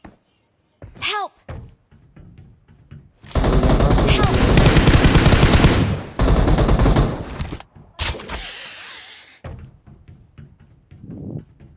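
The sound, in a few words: gunfire in PUBG Mobile video game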